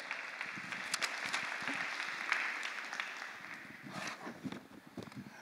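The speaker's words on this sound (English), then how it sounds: "Let's give Leroy a big round of applause" Audience applause at a morning event, a moderate patter of clapping from a seated crowd that rises and thins, with uneven bursts and no speech heard over it.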